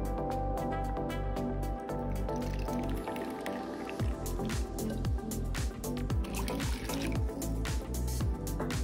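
Hot water poured over lemon juice in a kitchen, a steady close liquid stream with drips and squishy splashes running throughout, loud and continuous behind background music.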